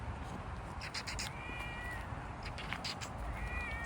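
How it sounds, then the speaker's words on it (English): A small cat meows several times in quick, short calls, fairly near, over a steady background hiss outdoors. "come along and see this little cat"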